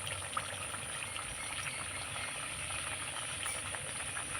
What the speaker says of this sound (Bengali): তেলটা গরম হয়ে গেছে, এবার ব্যাটারটা দিয়ে দেবো।